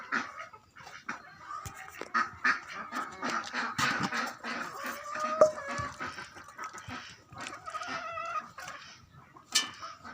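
Chickens on a pig farm cluck and cackle near and far in a dense, continuous chorus, with a dog audible among them and occasional rustling; no speech stands out.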